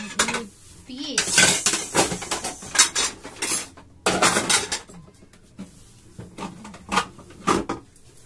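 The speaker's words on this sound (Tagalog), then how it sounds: "Hugasan natin. Magtanggal tayo ng ating mga plato." Plates and cutlery being cleared and washed in a home kitchen, with bright clinks and clatters of dishes and silverware coming in irregular bursts, close by, with brief quiet gaps between handlings.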